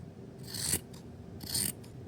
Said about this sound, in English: then you get your scissors right under that and then cut